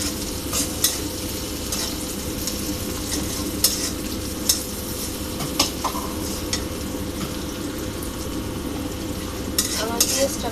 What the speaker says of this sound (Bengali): আমার পেঁয়াজটা ভাজা হয়ে আসছে।